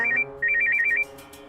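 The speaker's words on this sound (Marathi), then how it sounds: "कोणाचा फोन येता?" A phone ringtone trills in two quick electronic bursts, loud and close, then cuts off.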